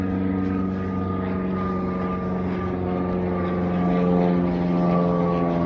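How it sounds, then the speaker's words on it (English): Airplane passing overhead on a sunny outdoor walk, a steady broad engine drone that swells slightly toward the end, heard alone without talk. "There's a plane flying above me."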